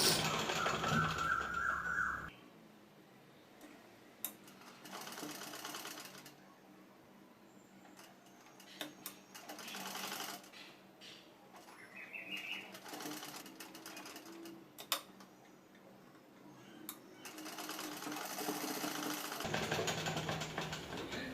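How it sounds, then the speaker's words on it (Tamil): A sewing machine runs in short, quiet bursts as it stitches around the neck of a frock for a two-to-three-month-old baby, with pauses between runs and brief handling noises. "அப்படியே சுற்றியும் ஒரு தையல் போட்டு எடுத்துக்கலாம்."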